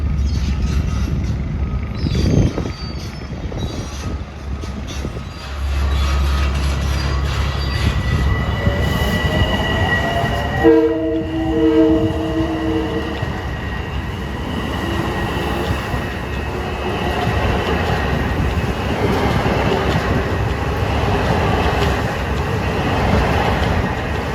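Long Island Rail Road train 2054, bound from New York to Ronkonkoma, rumbles past on triple track with steady rolling wheel noise, squealing rails and sustained horn-like tones in the middle of the pass.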